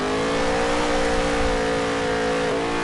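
A NASCAR race car engine screaming at high, steady revs through a fast lap on a Las Vegas track in the NASCAR Heat 3 video game, loud and continuous with a slight pitch dip near the end.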